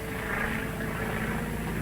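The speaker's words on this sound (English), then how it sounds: "That must be Bob West. It's a government plane" A government plane flies overhead in a 1939 serial, heard as a steady, dense engine drone that stays loud and unbroken throughout.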